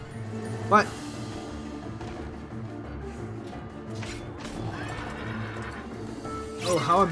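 Horse neighing and clip-clopping hooves in the Kingdom Hearts 3 video game, a sharp whinny near the start and another rising whinny at the end over steady game music, with a player talking throughout.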